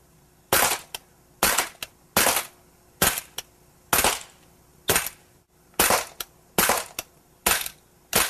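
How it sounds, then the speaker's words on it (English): A Walther CO2 blowback BB pistol fitted with a Night Force flashlight and laser fires a rapid string of about a dozen sharp, close pops at a target, often in quick pairs, with no talking. "Let's go ahead and put some BBs in this thing and try out this target right here."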